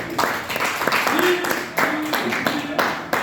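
Audience in a talk on performance and productivity claps for a participant who answered a question, scattered clapping in uneven bursts with voices talking over it.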